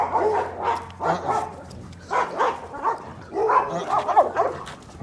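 Dogs fighting through a fence, with rapid, overlapping barks, yips and snarls in continuous bursts, fairly loud and close.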